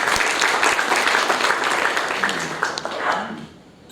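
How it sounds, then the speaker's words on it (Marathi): An audience at a public talk on the Maharashtra COVID task force claps in a dense burst of applause that fades toward the end. "एकदा त्यांच्यासाठी टाळ्या वाजवा."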